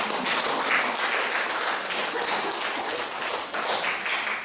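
A church congregation breaks into continuous applause, a dense wash of many clapping hands, sustained and fairly loud without a break.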